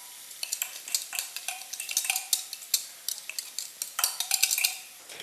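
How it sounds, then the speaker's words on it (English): Onions sauté in butter and oil, a spatula stirring them in quick irregular scrapes and taps over a soft sizzle, fairly close and moderately loud, with no voices. "What I'm going to do is saute the onions."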